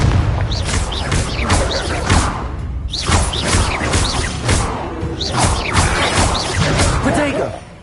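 Confringo fire-blast spells explode during combat in Hogwarts Legacy, making loud booming bursts and whooshes that repeat in a dense, continuous battle mix with shouted voices throughout.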